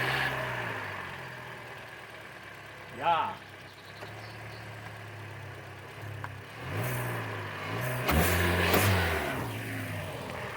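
A 2012 Hyundai Elantra engine revs up close in a couple of short surges over a low idle, while people talk nearby.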